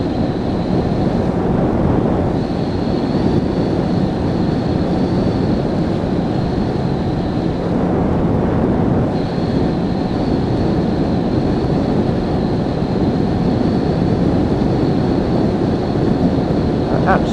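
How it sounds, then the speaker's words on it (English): Lexmoto Michigan motorcycle riding on a wet dual carriageway, heard as a loud, continuous roar of wind buffeting and road hiss with a steady engine drone and a thin high whine underneath, no talking. "I'm going to crank up a few more miles on this bike in the wet"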